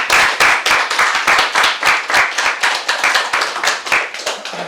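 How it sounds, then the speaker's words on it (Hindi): An audience at a business talk claps hard for nearly five seconds, the crowd's hands falling into a fairly regular, pulsing rhythm, close and loud without any speech. "एक बार जोरदार तालियां"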